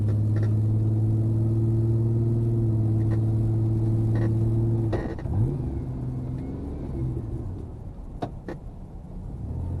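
Truck with a Flowmaster axle-back exhaust rumbling at a steady idle, close and loud, then a brief, uneven blip of revving that quickly drops away into a lower rumble, with a few clicks and knocks near the end.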